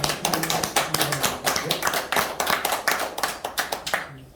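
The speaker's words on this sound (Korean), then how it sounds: "다 같이 큰 박수로 이승진 이사님" An audience claps together in steady applause welcoming a lecturer at a Korean policy talk, a dense run of sharp hand claps with a lightly pulsing rhythm, moderately loud and with no voices over it.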